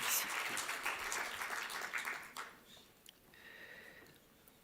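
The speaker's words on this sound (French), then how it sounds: "Sous vos applaudissements, mesdames et messieurs." Audience applause welcoming a doctor to the lectern for a talk on hypertension and diet: a crowd claps for about two seconds, fades out, then faint room noise and a brief electronic tone follow.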